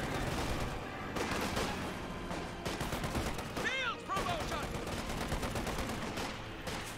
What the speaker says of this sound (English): The M40 could push forward in order to get some point blank shots.